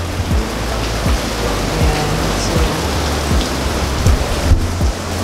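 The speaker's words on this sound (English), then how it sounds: "it's raining hard here in Boracay" Heavy rain pours down hard in Boracay, a dense, loud, continuous hiss of drops drumming on surfaces close by, with no voices.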